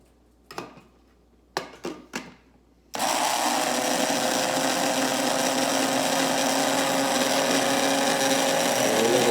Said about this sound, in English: we're going to grind away and make it into a finer powder